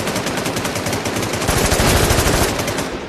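Sustained rapid automatic gunfire rattles loud and close in the video game Warz, a dense unbroken burst lasting several seconds with no pause.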